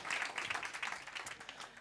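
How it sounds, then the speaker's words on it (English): Brief, fairly faint applause from an audience at a theatre event, greeting a student speaker named Finn as he takes the stage, a short patter of clapping that thins out quickly. "Can we please give Finn a round of applause?"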